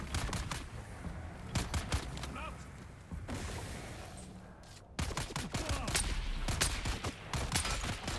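Rapid bursts of gunfire at close to mid range during a CHOAM salvage rights event in Dune Awakening, repeated sharp shots with some heavier booms, continuing throughout under occasional talk.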